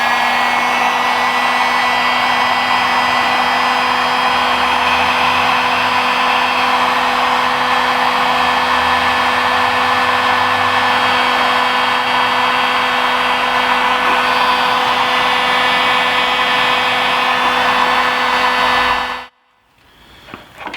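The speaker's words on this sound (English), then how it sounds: "we're going to go ahead and apply a little bit of heat to get them all nice and sealed up" A heat gun blows hot air steadily and loudly for almost twenty seconds as it shrinks heat shrink butt connectors during a Jeep Wrangler JL off-road light wiring install, then cuts off abruptly.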